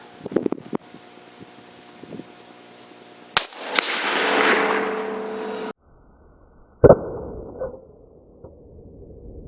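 A rifle shot fired at a gallon jug target at an outdoor range gives a sharp crack near the middle, followed by a broad rushing burst and then a second sharp impact-like crack.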